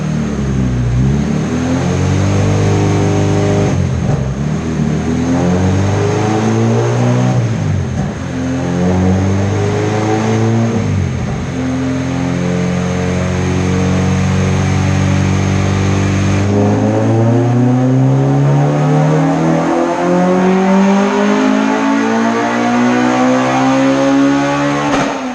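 An all-motor LSVtec engine running on E85 revs hard on a dyno, its loud harmonic howl climbing through the rev range in repeated sweeps, dropping back and rising again close up with no talk over it.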